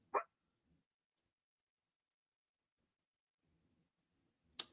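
A dog gives two short, sharp barks, one at the start and one at the end, with near silence between them.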